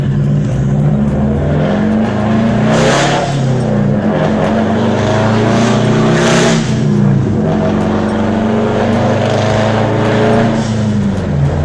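A 2005 Subaru Impreza WRX engine revs hard and loud with a deep, booming exhaust and audible blow-off dump, rising and falling in long sustained pulls close by.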